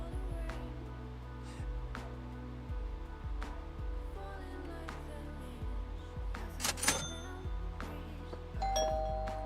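Doorbell ringing in the PC Building Simulator video game: a repeated two-tone ding-dong chime over steady low background music, with a brighter chime burst near the end and no talking.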